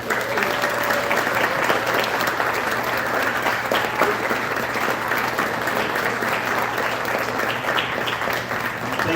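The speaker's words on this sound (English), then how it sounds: "So can you give another round of applause?" A banquet crowd at a school sports awards event gives sustained, dense applause for three-time state champions, a loud, even wash of clapping from many hands lasting throughout.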